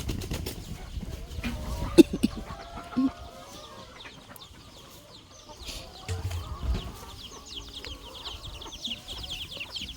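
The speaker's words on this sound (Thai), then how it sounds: "ไก่น้อยเฮาพวกเองอย่าไปหากินไก่เลยเจออีกากินหมดนะ" Chickens cluck softly and intermittently outdoors in a rural yard beside a fire, with scattered bird calls and a couple of louder brief sounds, all fairly quiet and distant.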